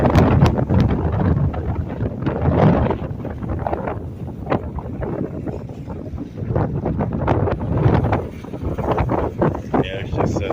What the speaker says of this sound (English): Just wind and wind shear just going in every direction.